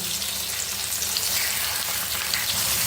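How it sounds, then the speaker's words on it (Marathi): Tomatoes roasting in a hot pan for a Maharashtrian tomato bharit, with a steady, dense crackling sizzle that stays close and even throughout, no voices over it. "आता या पॅनमध्ये मी हे टोमॅटो भाजून घेत आहे"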